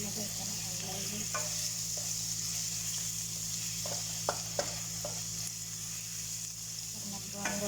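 Garlic frying in oil in a pan, a steady close sizzle with occasional clicks of a spoon stirring and scraping, and no talk.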